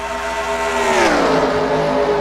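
Several race cars in a racing video game roar across the finish line four wide, a loud, continuous engine drone with rising and falling harmonics as the pack sweeps past.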